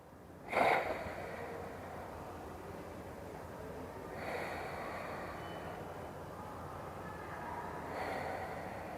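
Slow yoga breathing during a wheel-assisted stretch, with a sharp, close inhale near the start followed by long, soft airy breaths that swell gently at intervals.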